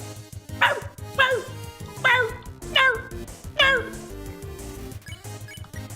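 A person imitates a corgi with a string of about five sharp, yelping barks spaced roughly half a second apart, loud and close, each one bending down in pitch, over a steady low background hum.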